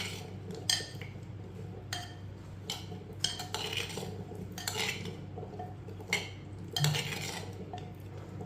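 A utensil clinks and scrapes against a bowl while lemon juice is mixed into cut taro (arvi) pieces, giving quiet, irregular clatters with short pauses between them, close by.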